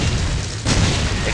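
A grenade blasts in Call of Duty 4: a deep, heavy boom with a sharp burst partway through, sitting over a continuous low rumble of gunfire and game noise.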